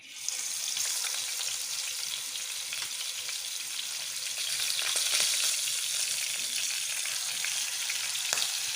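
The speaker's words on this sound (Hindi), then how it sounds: "अब वो टिक्के हम इसमें ऐड कर रहे हैं। शैलो फ्राई करेंगे इसको, डीप फ्राई नहीं करेंगे।" Pieces of chicken tikka shallow-frying in oil in a pan give off a steady, close, hissing sizzle that holds for the whole stretch with small crackles and no talking.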